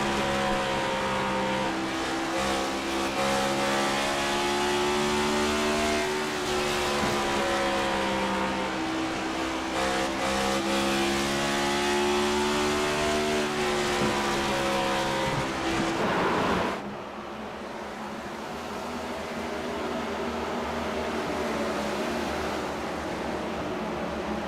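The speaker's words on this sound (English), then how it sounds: "You hear him really working that throttle." A Next Gen Cup Series stock car in a NASCAR racing video game at Bristol, engine loud and continuous as the throttle is worked, revs climbing and dropping in waves before the sound cuts to a lower, steadier drone.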